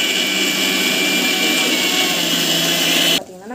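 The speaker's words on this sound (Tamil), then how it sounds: "மிக்ஸில வந்து பொடிச்சுக்கணும்" A mixer grinder whirs loudly and steadily at close range, then cuts off abruptly near the end.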